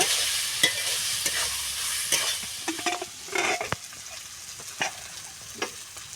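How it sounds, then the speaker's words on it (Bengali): A spatula scrapes and stirs fried potatoes with spices around a sizzling pan, with irregular clanks and scrapes over a steady frying hiss. "এবার নেড়ে চেড়ে নেব।"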